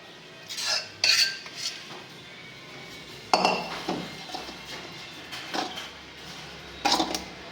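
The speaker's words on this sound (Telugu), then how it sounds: "ఇప్పుడు ఇందులో ఈ పులుసు కూడా వేసి కలిపేద్దాం." A spoon stirs tamarind juice into drumstick pieces with salt and chili for jar pickle, giving intermittent metallic clinks and scrapes against the vessel in bursts with quiet gaps between them.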